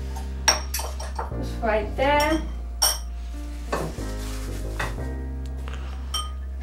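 A cookies and cream Oreo dessert is scooped into a bowl: a utensil clinks and scrapes against the dish several times, with a soft steady hum in the background. A person speaks briefly.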